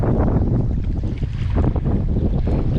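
Steady wind at sea buffeting a drifting kayak, a loud continuous rushing roar with gusty wind noise against the microphone and faint water movement beneath, no speech.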